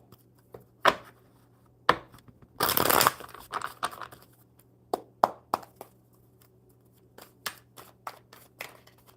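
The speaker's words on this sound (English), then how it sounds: "One more good shuffle." Tarot cards being shuffled by hand, with a dense riffling burst in the middle and scattered sharp slaps and taps of cards before and after, close and fairly quiet over a low steady hum.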